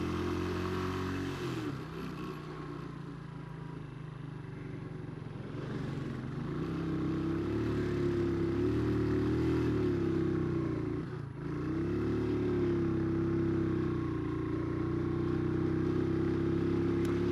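A small, low-displacement motorcycle engine drones steadily and loudly as it climbs uphill on a dirt road in Yemen, pitch rising and dipping slightly as it labors, with a brief dip near the middle.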